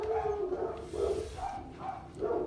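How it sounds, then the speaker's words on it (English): Several dogs bark and yip excitedly in a quick run of bursts, fairly close and moderately loud, with no talk over them. "Dogs seem really excited about it too."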